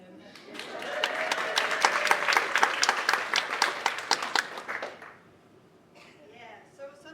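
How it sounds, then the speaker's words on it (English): Audience applause at a library stage show, a dense burst of many hands clapping that holds steady for about five seconds, then breaks off into a quieter room. "people are already clapping their hands"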